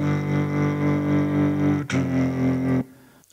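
A voice sings a sustained, buzzy guitar-like part imitating an electric guitar, with amp tremolo pulsing the level in a steady rhythm, then a short accented hit before it cuts off abruptly.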